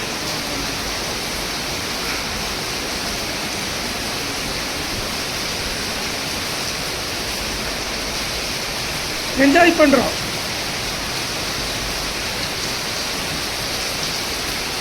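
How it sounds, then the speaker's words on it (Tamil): Heavy rain falls steadily at night outside a room in Phuket, a dense, continuous hiss that fills the whole stretch, with a short burst of close voices briefly rising over it partway through. "மழை நல்லா பெய்யுது."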